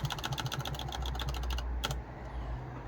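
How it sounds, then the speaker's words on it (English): An old membrane computer keyboard typed on in a rapid run of light, close clicking keystrokes that stops abruptly, followed by a couple of final taps and then quiet. "I type and it works"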